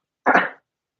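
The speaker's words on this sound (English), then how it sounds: "Oh, I'm gonna sneeze." A single short sneeze from a woman, close and abrupt, lasting well under half a second, with silence around it.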